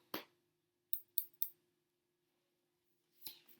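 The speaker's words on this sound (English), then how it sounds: "taking our little scissors here," Small scissors cut a letter O out of paper: one crisp snip, then three quick snips close together, and a final snip after a short pause. The snips are near, sharp and isolated against silence.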